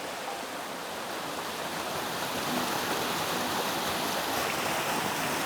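A big waterfall pours into a large plunge pool on a trout stream, a steady, dense hiss of falling water heard alone and unbroken throughout.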